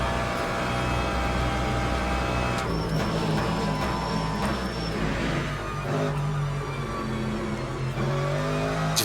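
Race car engines in the Le Mans Ultimate sim racing game, with a Mercedes and a McLaren on track: a loud, continuous engine drone that rises and falls in pitch through gear changes and throttle, filling the whole stretch.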